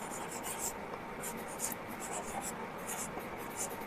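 A marker or chalk scratches out a run of short, quick strokes on a board during a maths lesson, the writing steady and close under faint background noise.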